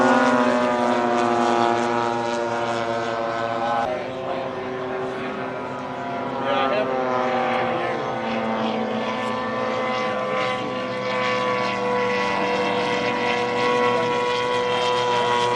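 An experimental, home-built propeller aircraft comes in to land at an air show, its engine a loud, sustained droning hum that shifts pitch slightly as it passes, close and continuous throughout.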